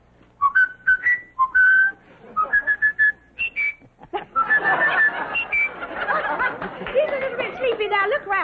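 A man whistles a tune on a game show stage, with clear melodic notes in short phrases, followed by audience laughter and chatter swelling beneath and after the whistling.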